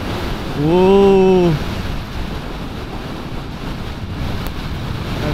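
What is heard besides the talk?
strong wind near windmills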